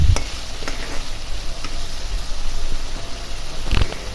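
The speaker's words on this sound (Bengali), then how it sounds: "তো দেখুন আমার বেগুনটা ভালো করে কষিয়ে নিতেছি" Eggplant sautés in hot oil in a pan while being stirred, a loud close crackling sizzle with scraping stir strokes and a couple of heavy knocks at the start and end.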